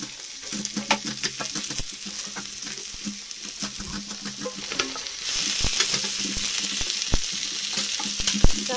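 Five-spice tempering, dry red chillies and bay leaves sizzle in hot oil in a home kitchen, a steady close crackle. Sharp pops and clinks of stirring break in, and the hiss grows louder toward the end.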